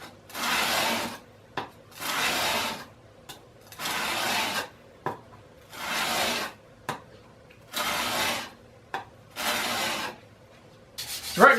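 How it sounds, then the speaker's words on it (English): The back of a Stanley Corsair plane iron scrubs back and forth on a 1000 grit water whetstone, making rhythmic gritty rasping strokes about one per second, close and fairly loud, with short quiet gaps between passes and no talking. "right now I'm just flattening the back of this on some 1000 grit whetstone or waterstone"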